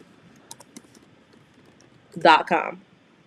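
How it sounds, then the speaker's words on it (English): A few light taps on a computer keyboard, sparse and quiet, then a burst of talking. "you're going to type in thefont.com"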